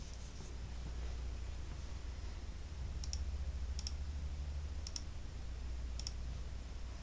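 Faint computer mouse clicks, a few sharp ticks around the middle of the clip, sit over a steady low hum with no talk.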